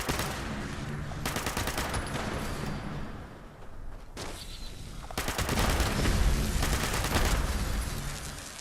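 Rapid bursts of gunfire from a gun in the video game Fallout 76, with two long sustained volleys of quick shots separated by a short lull, loud and dense.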